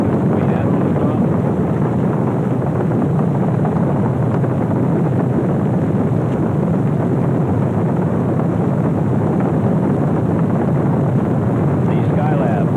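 A Skylab launch rocket lifts off the pad in a continuous, loud, broadband roar with no breaks, heavy and rumbling throughout like a distant wall of thunder.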